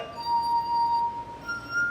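Tuned drinking glasses of a glass harp ring with pure, sustained tones, one clear note held and then a higher note entering, quiet and close.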